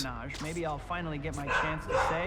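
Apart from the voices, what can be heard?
dog barking in Spider-Man 3 PS2 video game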